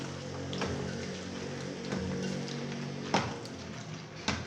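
Hands squeeze and mash bitter gourds in water inside a pot, giving a close, quiet run of wet squelching and sloshing with a few sharper taps.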